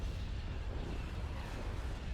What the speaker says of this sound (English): Every time those quad cannons hit, they nearly blow up a hardpoint.